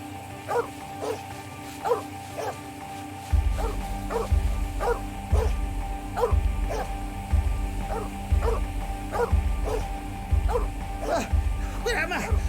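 Dog barking in The 39 Steps video game, a string of sharp, evenly spaced barks and yips running over a steady low background drone, fairly loud and close.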